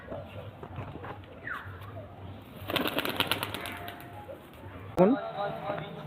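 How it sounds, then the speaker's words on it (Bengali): Giribaz pigeons at a pigeon sale at Boro Dighar Mor, with soft cooing, a burst of flapping wings midway and a sharp flutter near the end, under nearby voices. "এই সমস্ত গিরিবাস পায়রা"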